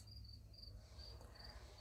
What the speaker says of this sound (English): I hear crickets. I don't know if you can hear them. They are so loud right now.